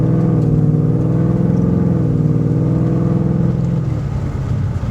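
Whipple supercharged 2018 Mustang accelerating from a rolling start, a close, loud, steady engine drone with rich layered harmonics that rise slowly and hold, then ease off at the end, with no talking.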